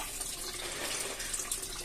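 Water running steadily through an aquaponics recirculation system where fish are raised in water tanks alongside lettuce, a continuous close rushing and splashing flow with no pauses.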